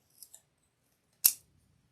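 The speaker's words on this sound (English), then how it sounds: "take my nippers and cut a portion of this off" Wire nippers snip through a floral pick with one crisp, close cut, preceded by two faint light clicks, in an otherwise quiet room.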